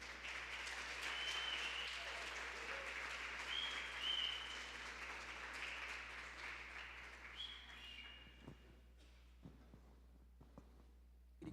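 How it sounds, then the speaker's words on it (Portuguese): Church congregation applauding, a sustained wash of many hands clapping that holds steady, then thins out into scattered claps and fades toward the end. "Queria que você aplaudisse Jesus pela vida dele"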